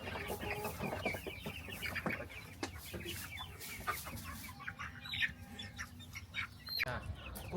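Young chicks set out to sun themselves cluck and peep in a continuous scattered chatter, moderately close, with farmyard rustling and a little background noise.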